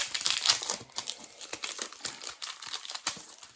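Plastic packaging around individual rubber stamps crinkles and crackles as it is pulled open, a dense, close, busy rustle lasting a few seconds with no talking.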